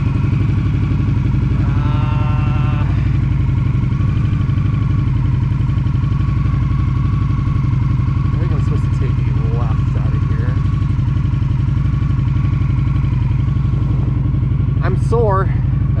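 Motorcycle engine at speed during a long-distance highway ride from Flagstaff to Texas, a loud, steady low drone with wind rush throughout, and a rider's voice talking now and then over it.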